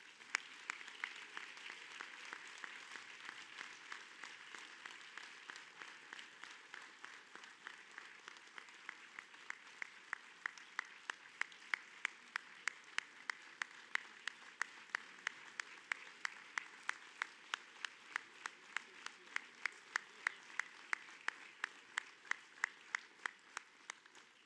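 Audience applause for the newest inductees at the 2019 Panhandle Sports Hall of Fame ceremony, a steady wash of many hands that builds into sharper, rhythmic unison claps, sustained throughout at moderate distance.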